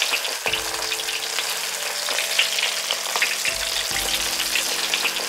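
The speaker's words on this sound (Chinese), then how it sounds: "这个时候可以把火调稍微小一点，用中火去炸，让它慢慢的炸透。" Fish deep-frying in oil over medium heat, a steady close sizzle and bubbling crackle that runs the whole time, with a few soft low knocks from the pan and no voices.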